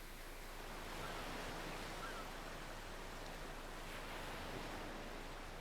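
Steady, soft wash of surf in the video game Octopath Traveler 2, a continuous faint rushing of waves with no voices.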